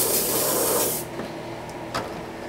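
An airbrush sprays white paint onto an RC car body. A loud steady hiss runs for about a second and then cuts off, leaving a quiet room with a faint click or two and no talking.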